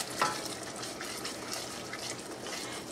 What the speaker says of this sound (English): we're just going to stir that in